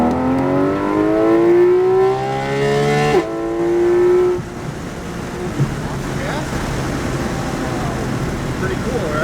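A Porsche GT race car accelerating on the Kansas Speedway track in Kansas City: a loud, close engine whine rising steadily through the gears, a brief shift dip, then wind and road roar as it continues, with talk over it.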